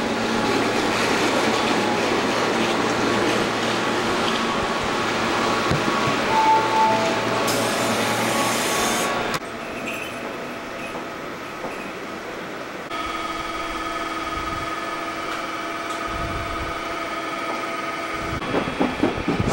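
A connecting train stands waiting at a station in Japan: a loud rolling rail rumble gives way to a quieter steady electrical hum and idling tones, with no voices.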